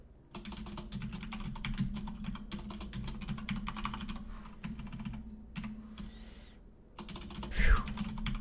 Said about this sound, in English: Got to be able to type first.